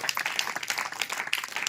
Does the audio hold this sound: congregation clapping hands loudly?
yes